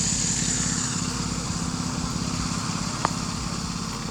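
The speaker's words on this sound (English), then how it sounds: "the biggest Redneck lawnmower, 246 inch" A giant homemade lawn mower built from many mowers with a 246-inch deck runs steadily, a continuous rumbling engine drone, loud and close, with a brief click near the end.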